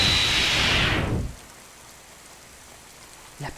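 Rain pours down as a dense, loud hiss for about a second, then cuts off abruptly, leaving near silence with only a faint stir at the end.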